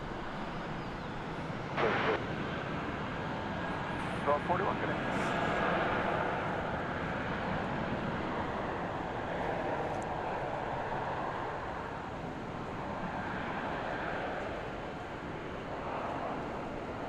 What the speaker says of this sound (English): Yes, another 20th century United aircraft, painted in the old colors.